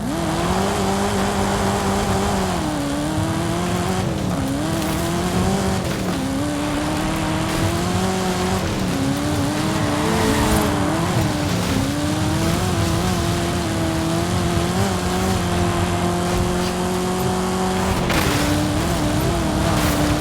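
Engine of a Camaro race car in a racing video game, a continuous loud droning roar that rises and falls as the car shifts and accelerates, with faint tire noise, throughout with no talk.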